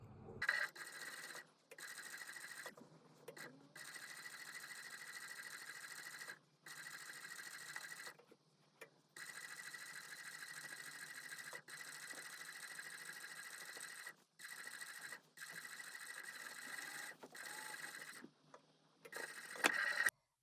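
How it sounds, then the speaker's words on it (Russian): Sewing machine stitching a seam on a pocket with bias binding, a steady close whirring run broken by brief pauses and restarts, fairly quiet and steady throughout. "Я буду прокладывать строчку в шов."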